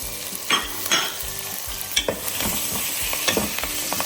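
Okra tamarind stew ingredients with curry leaves, mint and coriander are stirred in a sizzling pan, with loud, close spoon scrapes and clinks in an uneven rhythm over continuous frying hiss.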